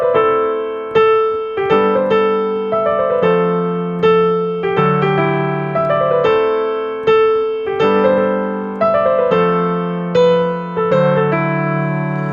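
Piano melody, played alone as a run of bright, evenly struck notes over sustained lower chords, loud and steady throughout.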